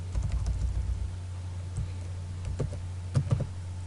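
Computer keyboard typing: a short run of light key clicks, close and fairly quiet, with no talking.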